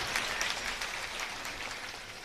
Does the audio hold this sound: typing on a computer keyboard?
no